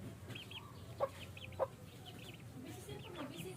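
A tiny hen of the world's smallest chicken breed gives a few soft, close clucks and short chirpy calls over a quiet background, with two sharper bursts about half a second apart.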